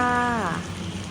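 Rain falls steadily in Pattani, southern Thailand, during the November monsoon season. A soft, even hiss of rain comes in after a brief tonal sweep at the start.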